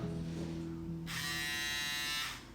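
A Braun Series 5 electric shaver runs up close with a steady mechanical buzz, then switches to a brighter, higher-pitched whine before it winds down at the end.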